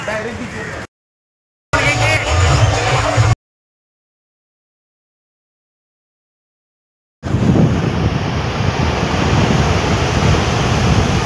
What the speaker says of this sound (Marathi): समुद्राच्या बीचवर आहे